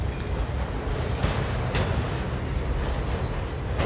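A very long freight train of auto-rack cars carrying vehicles rolls past in Wartrace, Tennessee, giving a steady rumbling clatter of wheels on rail with occasional sharper clanks, continuous and moderately close.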